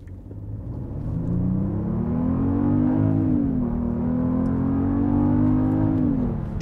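A 2021 Genesis GV80 launching from a stop with traction and stability control off, its engine droning loudly and rising in pitch as it accelerates, with a brief upshift dip partway through, heard from inside the cabin.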